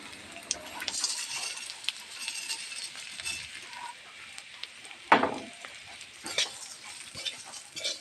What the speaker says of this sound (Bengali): তোমরাও দেখে নাও কেমন করে আমি চিরা ভাজা আর কি বানাই